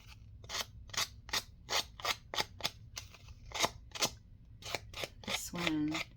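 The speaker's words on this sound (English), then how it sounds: "Scissors." Scissors snip through a paper journal card in a quick run of about a dozen crisp, close cuts, each a sharp separate click-slice in a steady rhythm.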